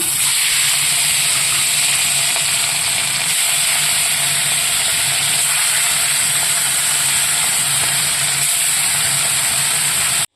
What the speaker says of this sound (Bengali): এদিকে ইলিশ মাছ ভাজতে দিয়ে দিচ্ছি।